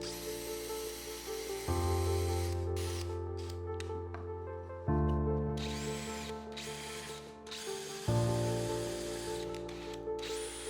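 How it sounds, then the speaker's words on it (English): A mobile tower drill guide press drives drill bits of several sizes through marked spots, giving three sustained bursts of steady motor whine and grinding bit noise, each starting abruptly and tapering off, close and loud with no talking. "I drill the mark with so many size of drill bit."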